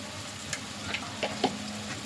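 Chili powder and salt are stirred into a taro curry in a pan, a low simmering sizzle with a few soft spoon scrapes and clicks, close and fairly quiet.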